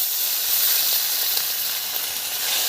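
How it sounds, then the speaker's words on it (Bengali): Fresh koi fish sizzles in hot oil in a heated pan, a steady bright hiss from start to end with no talking. "এখন আমি তেল দিয়ে দিচ্ছি। টাটকা টাটকা মাছ দিয়ে দিচ্ছি।"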